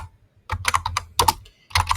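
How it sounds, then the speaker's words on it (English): Close, crisp keystrokes come in three quick bursts of clicking on a computer keyboard, with short silent gaps between them and no voices. "like I just typed so many log messages"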